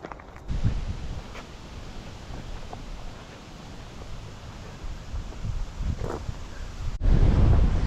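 Strong autumn wind blows outdoors in Michigan, buffeting the microphone with a steady roaring rumble and gusty surges that grow louder near the end; no one speaks.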